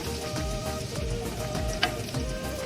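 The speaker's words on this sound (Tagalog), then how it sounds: "Nagpainit lang muna ako ng mantika. Then magsusutay na tayo ng bawang." Garlic sautéing in hot oil for kare-kare sauce gives a steady, close sizzle with soft stirring scrapes and one sharp clink partway through.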